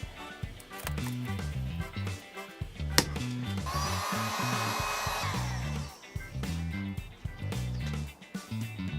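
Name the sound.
heat gun blowing on vinyl decal to remove it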